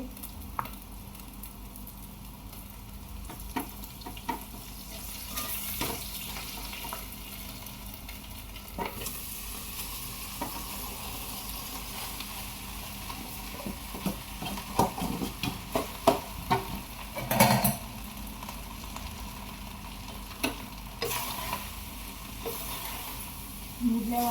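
Spices temper in a pan for khichdi with a soft, continuous sizzle, broken by occasional sharp crackles and the scrape and clink of stirring.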